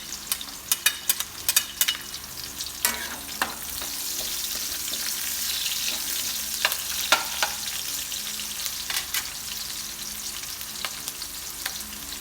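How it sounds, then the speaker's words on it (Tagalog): Onions sizzle and fry in a pan alongside golden-browned garlic for Filipino pork steak (bistek), a steady close hiss of oil broken by scattered sharp crackles and spatters, with no talking. "lalagay na natin yung ating sibuyas."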